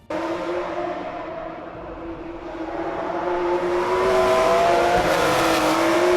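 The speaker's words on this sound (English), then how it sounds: "I'm just going to put the sound of Formula 1 cars racing around a track." An AI-generated track of Formula 1 cars racing around a circuit: a sustained engine whine that climbs steadily in pitch and loudness, sounding like a single car approaching and accelerating, with no voices.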